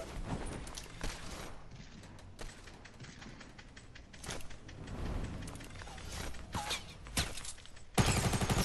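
Fortnite gunfire comes in scattered bursts of sharp, clicky shots at mid distance, with a denser rapid volley near the end, all over steady game background noise.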